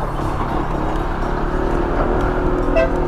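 A car horn toots briefly near the end over a steady engine rumble from a vehicle on a mountain road with blind spots in the Cordillera region of North Luzon, Philippines.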